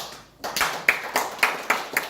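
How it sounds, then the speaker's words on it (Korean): A few sharp hand claps in a small gathering during a religious lecture, about six distinct claps in a quick, roughly even rhythm after a brief pause, close and fairly loud. "박수 치려면 확실히 쳐."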